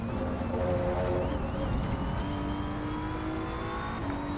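A car accelerating under throttle in the Assetto Corsa EVO racing game at the Nürburgring, a steady, continuous engine drone with rising harmonic tones, loud and close throughout with no pauses.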